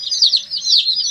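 Whiting True Blue chicks peep continuously in close, loud, high-pitched overlapping chirps with no pauses.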